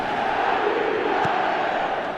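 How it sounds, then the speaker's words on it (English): Stadium crowd in the football video game REMATCH, a steady, loud roar of massed voices that sounds like chanting, holding at one level throughout with no distinct speech. "The crowd are calling for this to be put to bed."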